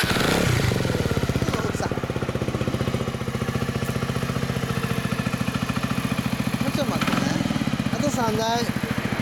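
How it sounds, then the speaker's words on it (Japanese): Suzuki Skywave Type M 250 scooter fitted with a BEAMS exhaust, idling close by with a rapid even putter, while people talk over it and a short rising rev comes near the end. "エンジンを聞かせてもらえますか？"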